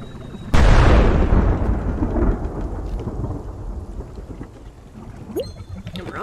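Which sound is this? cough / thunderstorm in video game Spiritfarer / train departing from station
thunderstorm in video game Spiritfarer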